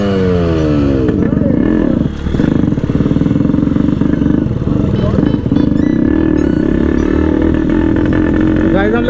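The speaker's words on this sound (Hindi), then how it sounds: "इसका जो साइलेंसर है बहुत ही जबरदस्त बजता है।" A Yamaha RX100 and a Bajaj Boxer race with loud exhausts, their engines revving and rising in pitch, then settling into a harsh, steady drone close to the microphone, with voices partly audible over the noise.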